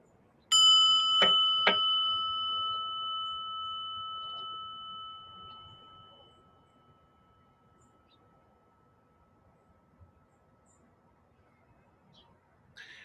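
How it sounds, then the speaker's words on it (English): A single bright bell strike rings out clearly, then its pure tone slowly decays over several seconds into near silence. "listen to the bell"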